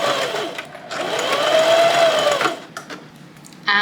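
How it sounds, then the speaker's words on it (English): A home sewing machine runs a straight stitch in the ditch about an inch from the top of a skirt waistband, a steady close whir for over two seconds that slows and stops, with no talking. "we are going to stitch in the ditch with a straight stitch just about 1 inch from the top"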